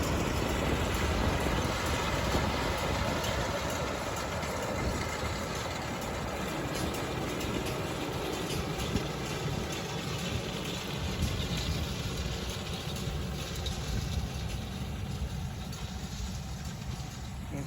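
Tractor pulling a round hay baler across a hay field, a steady low engine drone with mechanical rumble, continuous and fairly distant, with a faint voice now and then.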